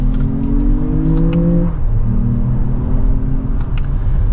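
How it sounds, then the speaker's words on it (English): A 2024 Lexus RX500h F Sport hybrid SUV's engine rises steadily in pitch as it accelerates in sport mode, drops briefly at a gear change, then climbs again, heard from inside the cabin. "Nice healthy acceleration for this SUV."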